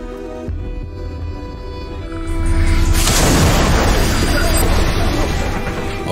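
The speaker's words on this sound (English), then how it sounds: "the explosion he used managed to kill one of the two dealers, Emilio." An explosion in a Breaking Bad scene erupts midway as a loud, broad boom that swells and then lingers as a sustained rumbling roar, following a quieter tense stretch.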